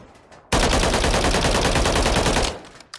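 A long, rapid full-auto burst from a weapon in Call of Duty Modern Warfare III, loud and continuous for about two seconds, starting sharply and fading quickly at the end.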